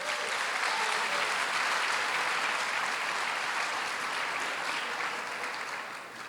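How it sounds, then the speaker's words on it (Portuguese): A church congregation in Barueri claps loudly and continuously for its own church, a dense, sustained roar of applause that eases off slightly toward the end. "Uma salva de palmas para a igreja de vocês."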